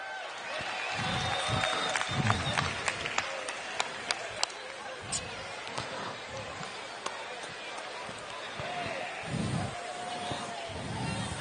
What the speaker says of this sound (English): Let's give a round of applause to our down rider